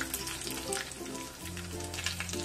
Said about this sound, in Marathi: आपण मेथीदाणे 1 चमचा आणि मोहरी 1 चमचा टाकून घेऊया याच्यामध्ये.